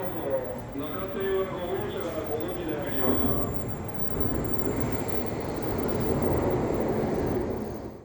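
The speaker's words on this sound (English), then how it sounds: "And this is my train pulling up." A Japanese bullet train on the Tokyo–Osaka line rumbles and hisses as it rolls into a station, the broad roar building steadily with some faint background sounds.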